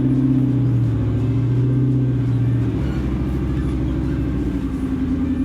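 Low engine rumble from a Jeep driving off-road, steady and close throughout, with a deep droning tone that shifts pitch partway through as the drive continues, with no talking.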